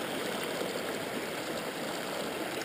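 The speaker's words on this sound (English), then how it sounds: "the sluice is running its course. I'll leave it running." Water runs steadily through a gold panning sluice outdoors in the UK, a loud, close, continuous rushing wash with no pauses and no talking.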